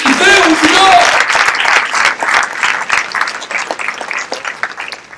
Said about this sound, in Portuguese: Dê uma salva de palmas para Deus.